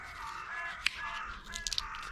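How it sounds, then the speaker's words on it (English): Crows caw in a garden during bay-leaf picking, several rough drawn-out calls repeating at a moderate distance over soft outdoor background noise and small rustles. "And a really great soundtrack from the crows."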